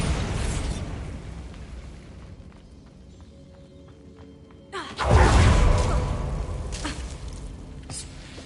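A Bombarda explosion spell goes off in Hogwarts Legacy: a sudden loud blast erupts midway and then rumbles and decays over several seconds, after quieter magical rustling.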